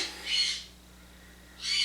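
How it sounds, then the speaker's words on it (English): Two hissy, raspy bird calls sound in the background of an indoor room, one early and one near the end, separated by a short stretch of near-silence. "I'm sorry if you can hear the birds in the background"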